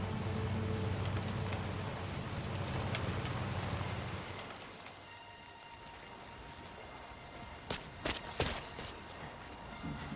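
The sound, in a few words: rain falling in video game Death Stranding 2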